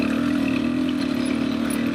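A 2024 Beta 300 RR Race Edition two-stroke dirt bike engine revs steadily in fourth gear, a close, loud, buzzing drone holding one pitch without pause.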